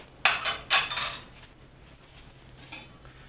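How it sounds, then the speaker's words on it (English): A metal whisk works through green chili soup in a pot, giving a few quick clinks and scrapes against the pot sides early on, then a softer knock after a quiet pause. "I'm going to use a whisk on it"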